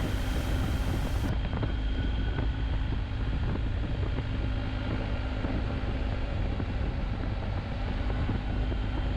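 A motorcycle ridden along a city road, with a steady droning engine and heavy rushing wind buffeting the microphone throughout, loud and continuous, with no talk.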